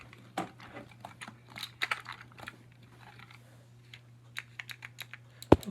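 An Alps mechanical computer keyboard, in use since 2003 and now failing to type some letters, clicks under scattered bursts of close keystrokes, with one sharp loud clack near the end over a faint steady hum.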